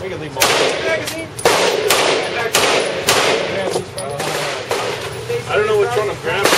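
Loud gunshots fired at an indoor range in a Las Vegas gun store, sharp cracks spaced about a second apart, each with a short echoing tail and a steady room din between shots.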